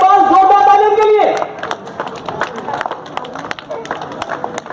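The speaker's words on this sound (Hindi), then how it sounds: "एक बार जोरदार तालियों के लिए" After a child answers an Islamic quiz question correctly at a wedding gathering, the audience applauds. Scattered, uneven clapping follows a stretch of speech and continues at moderate loudness to the end.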